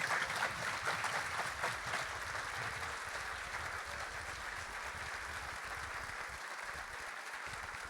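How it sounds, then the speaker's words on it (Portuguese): An audience applauding at an education forum, a steady wash of clapping from many hands that carries on evenly for several seconds, fairly distant in the room. "se vocês aplaudiram"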